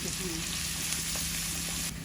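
Onions frying in a pan for a Bangladeshi home-style chicken bhuna, a constant close hiss and sizzle with a faint steady hum underneath, ending abruptly.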